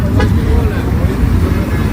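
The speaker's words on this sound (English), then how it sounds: "There's traffic, you heard?" Road traffic rumbles close by on a street during a police auditing livestream, a dense steady low roar with a brief higher horn-like toot near the start, loud and continuous throughout.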